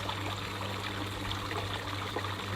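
Steady flow of water trickling and pouring in a forest setting, a continuous even wash of liquid sound with no pauses and no voices.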